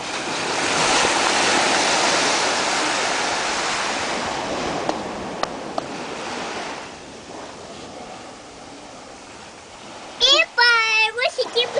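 Sea waves wash onto the beach at Florianópolis in a broad, steady roar with wind buffeting the microphone. The surf fades slightly toward the end, and a voice breaks in near the close.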